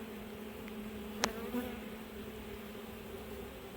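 Low, steady insect hum of honeybees buzzing at an open hive in an apiary, with a brief sharp click partway through; no voices.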